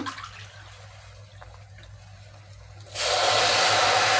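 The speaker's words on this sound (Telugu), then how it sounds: "వాటర్ వేసుకుందాము" A quiet kitchen, then a sudden loud, steady rush of water pouring into a pot of frying vegetables for wheat rava khichdi that keeps going to the end.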